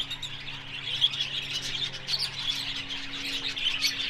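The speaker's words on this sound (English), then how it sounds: "They're all making so much noise, and then as soon as you get close, they stop." Many birds chirp and call continuously at Birdland Park & Gardens in Bourton-on-the-Water, a dense mid-distance chorus of tweets layered over a low steady hum, with no talk.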